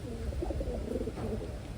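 Soft pigeon cooing from a newly arrived Taiwanese racing pigeon held close, murmuring low and steady throughout the short stretch, with no talk.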